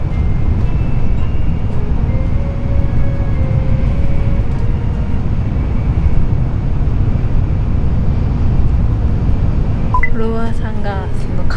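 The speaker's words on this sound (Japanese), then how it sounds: "この電車はのぞみ号東京行き" Shinkansen Nozomi bound for Tokyo running at speed, a steady loud low rumble and rushing hum heard from inside the car throughout, with a faint tonal whine drifting in the background and a brief voice near the end.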